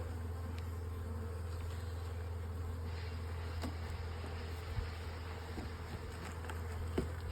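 Bees buzzing around a beehive, a steady droning hum with a few passing buzzes close by. It stays fairly faint and even outdoors, and no one speaks.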